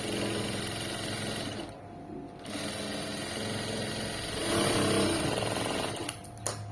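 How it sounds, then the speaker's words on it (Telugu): A sewing machine stitches piping in a steady close mechanical whir, pausing briefly partway through, then running again at a slightly stronger pitch before a few final clicks. "ఇలా నీట్గా స్టిచ్ చేయండి."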